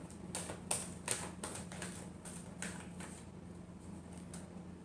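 Tarot cards being shuffled in a final shuffle: a run of crisp, riffling card flicks and slaps at close range, with a low steady hum underneath and no talking.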